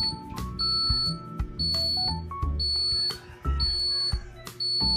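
Unox Anna electric oven, a 3-kilowatt countertop model, sounding its power-on beeps as it is plugged in: several short high electronic tones repeating over a busy kitchen-like background with low rumble.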